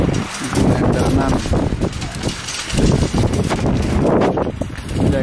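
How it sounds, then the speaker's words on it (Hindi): Cold wind gusting outdoors in a shop parking area in Uppsala, Sweden, on a 6-degree winter day, roaring steadily against the microphone in uneven surges with no clear break. "हवा चल रही है"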